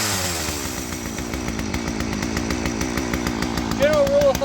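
A Husqvarna 41 two-stroke chainsaw with a new top end is revved to warm up, its engine buzzing steadily and close with rising and falling pulses throughout.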